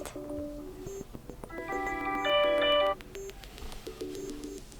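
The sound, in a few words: phone ringtone preview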